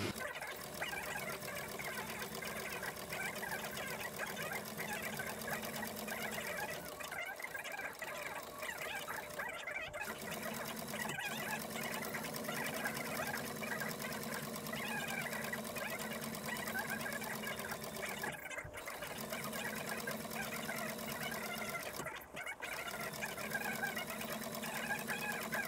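Sewing machine stitching a seam on a handmade leather rope bag, running in a long steady whir close by, with a few brief pauses between runs and no voices.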